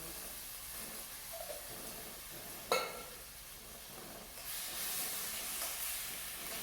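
Tomatoes drop into hot olive oil in a pan with a sharp clatter, then soft sizzling and steamy hiss rise and keep going quietly and close by.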